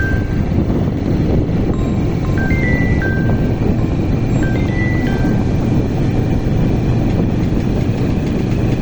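A private car cruises steadily after a gear change on a Dhaka street, with its engine droning evenly and loudly throughout and faint high tones above, and no talking.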